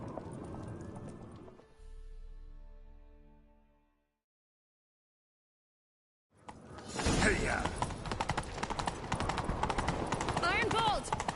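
Galloping horse hooves from The Witcher 3 pound in a steady, loud rhythm during a chase, rising after a short quiet gap and mixed with game sounds, with voices speaking earlier in the scene.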